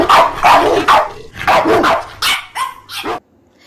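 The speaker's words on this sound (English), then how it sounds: "D for dog. D for dog." A dog barks several times in quick succession, loud and close, followed by a couple of higher yips before it goes quiet.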